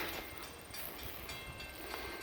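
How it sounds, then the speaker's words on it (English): A freight train on a still-running line rumbles steadily past a railroad crossing, a continuous broadband roar with no clear horn or bell. "As the train goes by here, I'll get a picture."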